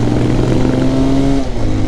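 Engine of a Harley superbike riding along a mountain road between Kodaikanal and Munnar, a steady loud drone holding a low hum with a brief dip near the end.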